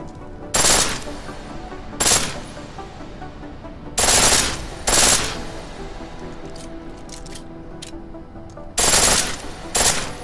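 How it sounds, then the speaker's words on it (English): A pistol firing on full auto in Deus Ex: Mankind Divided, heard as about six short, sharp bursts spread across the clip, loud against a quiet, humming background. "The pistol in full auto will take down targets fast, but it'll burn through your ammo"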